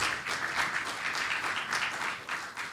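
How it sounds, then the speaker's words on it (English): A live event audience gives a round of applause, a fairly quiet, continuous wash of clapping that swells in gentle pulses. "Let's give another round of applause."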